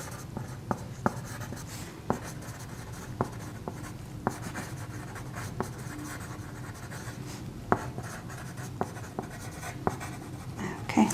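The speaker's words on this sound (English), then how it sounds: "I'm going to go ahead and write down your vitals." Vital signs being written down by hand during a medical exam role-play: soft, continuous pen-on-paper scratching, close and quiet, broken by sharp taps as strokes begin, with only a little voice in the background.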